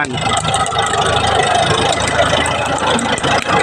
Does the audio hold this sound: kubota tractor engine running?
yes